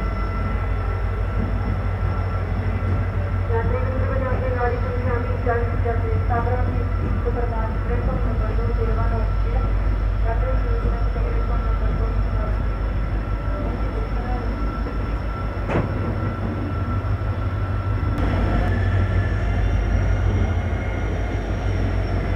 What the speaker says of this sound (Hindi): तो अपनी ट्रेन ने डिपार्चर ले लिया है डॉट ऑन टाइम